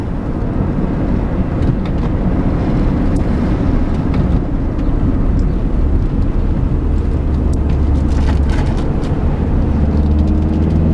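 A 2003 Honda Accord EX-L with a 4-cylinder engine and 5-speed manual, driven on winding roads: a steady low engine drone and road rumble, continuous and close, with no talking.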